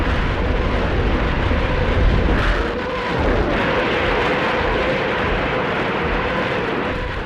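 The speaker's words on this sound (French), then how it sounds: "3000 canons et orgues de Staline écrasent les lignes ennemies" Massed artillery of some 3000 cannons and Katyusha rocket launchers pounds enemy lines at Stalingrad at dawn, a dense, continuous roar of overlapping blasts and deep rumbling with no break.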